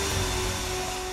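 Rock drill boring into the stone of an Egyptian pyramid, a steady close, loud mechanical roar with a constant high whine running unbroken throughout.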